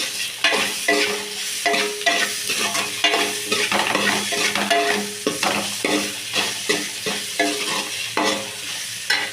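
A spoon repeatedly scrapes and stirs turmeric into a sizzling mixture in a pan, in quick rhythmic strokes, close and fairly loud.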